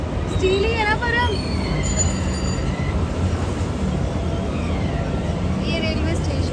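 A freight train loaded with steel rolls past at a railway station at night, a loud continuous rumble with wheel squeals and whistling tones, while voices talk over it.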